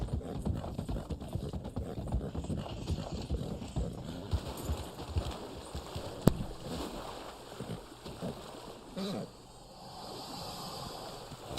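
Horse hooves clip-clop in a steady walking rhythm in Red Dead Online, moderately loud, with faint water and ambient sounds behind them.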